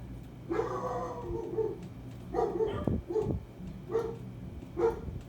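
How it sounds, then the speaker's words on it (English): A pet dog barks indoors in four or five separate bursts spaced about a second apart, each a short run of sharp barks with yipping edges, fairly close and with no talk. "Excuse my dog's barking."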